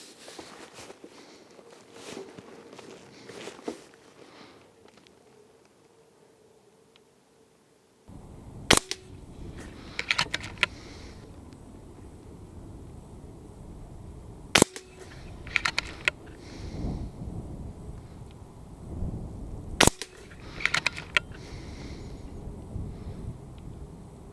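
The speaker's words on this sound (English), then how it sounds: "On the last round you can hear the follower click round, the bolt will now not close." Several sharp, loud shots from an FX DRS Classic .22 air rifle spaced a few seconds apart, with small metallic clicks and handling noises between them, the magazine follower clicking round on the last round.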